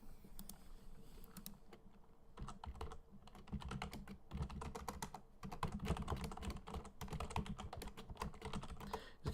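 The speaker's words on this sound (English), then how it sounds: "you're getting some typing stuff because there's no noise suppression" Computer keyboard typing, steady irregular clatter of keystrokes at close range, fairly quiet, continuing for several seconds with no talking.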